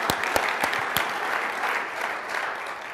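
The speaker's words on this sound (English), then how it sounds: "So what I'd love to do now is give Joe and Steve a round of applause" An audience at a conference forum applauds in steady, dense clapping, fairly close, with a few sharper claps standing out near the start.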